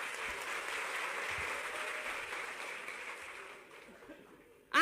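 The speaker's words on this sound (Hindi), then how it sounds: "एक बार सम्मानित मंच का जोरदार तालियों के साथ स्वागत।" Loud, sustained applause from the audience at a Vimukt Jati Divas ceremony welcoming the guests on stage, steady for about four seconds before thinning out and ending abruptly.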